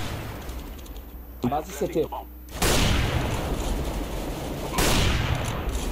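Gunfire in the video game CS:GO comes in loud bursts of rapid shots, broken by a short spoken callout between volleys.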